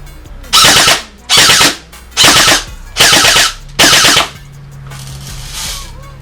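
A G&G CM16 Raider 2.0 AEG airsoft rifle fires five short full-auto bursts in steady rhythm, loud and close, followed by a faint mechanical hum.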